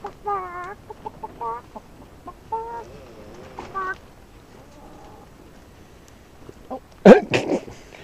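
Soft clucks and murmuring calls from chickens, scattered and intermittent, with a louder burst of squawking near the end.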